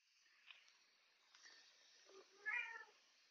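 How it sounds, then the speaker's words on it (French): A house cat meows for attention indoors: a couple of faint, short mews early on, then a clearer, louder drawn-out meow near the end over a quiet background. "le chat est jaloux. Vous entendez le chat?"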